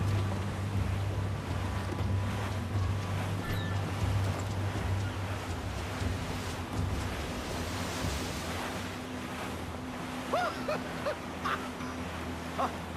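Sailing ship at sea in Assassin's Creed 4 Black Flag, a constant wash of waves and wind against the hull with a low rumble underneath and a few faint crew calls near the end.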